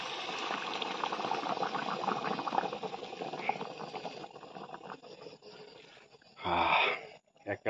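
Fatty pork simmering in a kadai of boiling water for gravy: a continuous bubbling, gurgling boil close by, easing off partway before a short louder burst of bubbling or pouring near the end.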